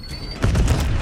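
A Semtex grenade goes off in Call of Duty: Black Ops 6 as one sudden, close, heavy boom with a low rumble that carries to the end of the brief moment, with no voices over it.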